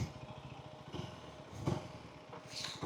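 A KTM Duke motorcycle engine idles close by after sitting unused for a month, a faint, steady low chugging with a few rises in level and no talk.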